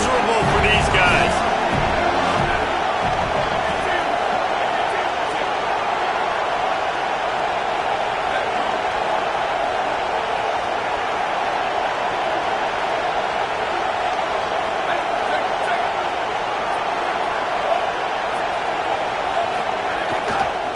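Steady roar of a football stadium crowd, loud and continuous throughout, with a play-by-play commentator talking over it.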